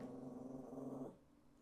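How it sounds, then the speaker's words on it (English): Dogs give a low, steady growl for about a second, faint and close, then it cuts off to quiet background, with no talking. "Shut up, dogs!"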